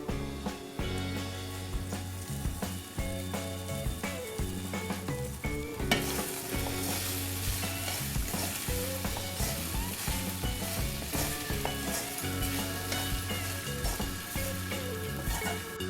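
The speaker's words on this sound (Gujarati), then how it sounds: "હવે આપણે આમાં ધોયેલા 250 જેટલા પૌવા નાખી દેવાના છે।" Washed poha (flattened rice) goes into a hot frying pan for Nagpur-style poha and is stirred. A constant sizzle plays under steady, repeated scraping and tapping of the spoon, close up, with a louder burst partway through.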